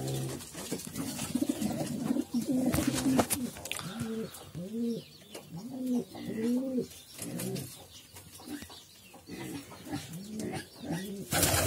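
Pigeons coo repeatedly in a loft aviary, a steady series of soft, rounded, rising-and-falling calls close to the microphone, with occasional chirps and faint background noise between them.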